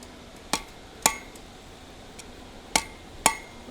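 A blacksmith's hammer strikes hot steel on the edge of an anvil while drawing out a taper: four sharp, ringing blows, two close together, a pause, then two more, loud and near in a quiet space.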